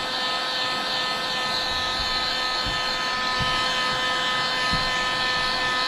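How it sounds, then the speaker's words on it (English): A hair dryer runs steadily at close range, a constant whirring blow with a high whine, used to heat a Talon grip being applied to a Glock; a few faint knocks sound beneath it. "a hairdryer is perfectly fine"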